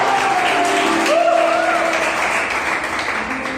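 Congregation applauding in a church service, a broad even wash of clapping with a voice rising and falling over it.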